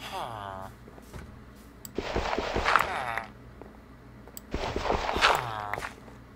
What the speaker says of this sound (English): I hear footsteps, but I don't know if that's the villagers' footsteps.